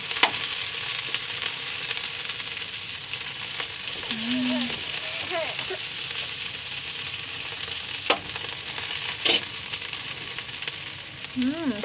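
Chicken tinola sizzles steadily in a pot, stirred with a bamboo ladle, giving a constant hiss with occasional clacks and scraping, while a voice speaks faintly in the background.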